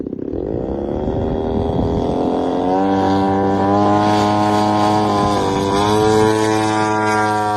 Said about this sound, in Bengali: সাউন্ড তো অনেক বেশি এখানে মূলত চাইনিজ আশি থেকে একশো পঞ্চাশ সিসির লাইট গ্যাসোলিন ইঞ্জিন ব্যবহার করা হয়েছে